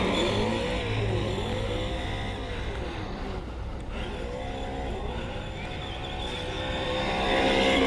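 A two-wheel-drive Traxxas Slash RC car runs over gravel, its electric motor whining steadily and rising and falling in pitch as it speeds up and slows, continuous and fairly close, with no voices.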